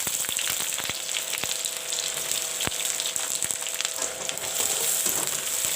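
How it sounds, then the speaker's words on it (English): Sliced onions, bay leaves and whole garam masala spices fry in hot oil, giving a close, steady sizzle with sharp crackles and pops scattered through it and no voices. "I will let the onions fry a bit."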